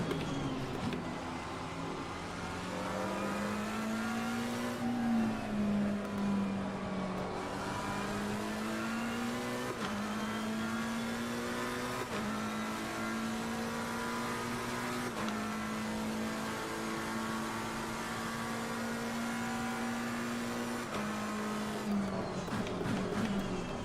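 Lamborghini race car in the Assetto Corsa Competizione racing game at the Nürburgring, engine droning steadily with repeated rises and drops in pitch as it shifts gears, loud and close for the whole stretch with no talk.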